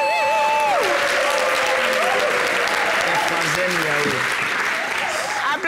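Audience applause for a performing artist on a TV variety show, a broad steady wash of clapping with a melodic voice or singing gliding over it throughout.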